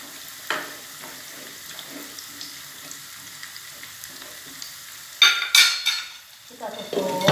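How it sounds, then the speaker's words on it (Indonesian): Cauliflower and green beans dropped into a hot pan for a Balinese pork rib soup, sizzling and frying steadily, then a louder burst of sizzle and stirring clatter near the end. "sekarang kita masukkan sayurannya, kembang kol dan buncisnya"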